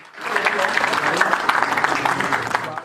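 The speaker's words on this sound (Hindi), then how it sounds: "तालियां हो जाए सभी की" Applause from an audience at a live meetup with a celebrity astrologer, dense steady clapping that swells in quickly and holds for nearly three seconds before tapering off.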